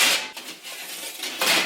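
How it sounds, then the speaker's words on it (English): Empty baking dishes being taken out of a home oven, with metal and glass clattering and scraping in a couple of close, distinct bursts and no talking. "I forgot that sometimes we put dishes in the oven, so I need to take those out really quickly."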